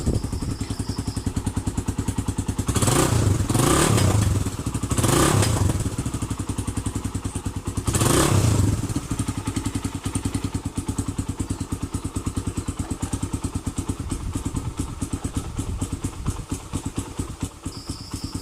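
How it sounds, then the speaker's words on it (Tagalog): A Suzuki Raider 150 carbureted motorcycle engine idles close by with a steady rapid putter, revved hard three times early on before settling back to a fast idle. "Paandarin muna natin ang motorsiklo na to"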